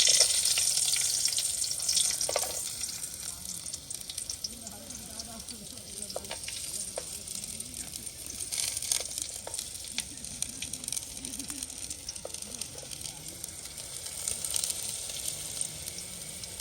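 Food sizzles and spatters in hot oil at a night campsite on Kabaragala, a steady close frying hiss with occasional stirring clinks, nearly free of talk.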